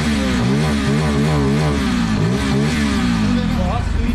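A Bajaj Pulsar F250 motorcycle engine runs close up with a wavering, rising and falling rev note that stays loud and continuous, and a voice talks over it.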